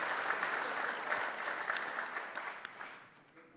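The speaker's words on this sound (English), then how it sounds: "a round of applause for the generous help" Conference audience at an aviation and AI event applauding a volunteer, a dense steady round of clapping that holds strong, then thins and fades away over the last moments.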